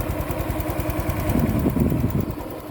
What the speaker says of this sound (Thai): อันนี้คืออุ่นเครื่องแล้วนะครับสตาร์ทเครื่องแล้ว